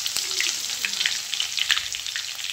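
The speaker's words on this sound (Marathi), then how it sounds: "तेलामध्ये मोहरी टाकते, जिरे," Mustard seeds, cumin and garlic fry in hot oil with a close, crackling sizzle and rapid pops spattering steadily throughout, with no voices.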